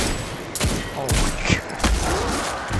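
Rapid gunfire from the Destiny 2 video game plays in a dense, continuous barrage, several sharp shots standing out over loud, noisy game audio without clear speech.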